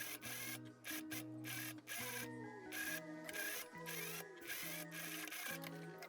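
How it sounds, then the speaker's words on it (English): A sewing machine stitches a gathered seam on a dirndl blouse, a steady mechanical whir running in short bursts with brief pauses between runs, fairly quiet and close. "now we can go ahead and sew along here"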